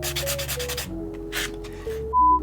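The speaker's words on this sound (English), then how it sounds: "Just using the buffing block here, careful not to get one of these cutting edges into my cuticle" A buffing block rubs over freshly applied acrylic nails in quick, close back-and-forth strokes, a dry scratchy rasp that pauses briefly midway, with faint tonal hum underneath.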